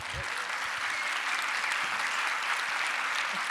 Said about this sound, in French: il faut faire un tonnerre d'applaudissements